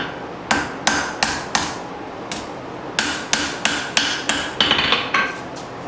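Hammer blows forging a slight pre-curve into the flat section of a file knife blade: sharp, ringing metallic strikes in two quick rhythmic runs, about a dozen hits, close and loud with no talk.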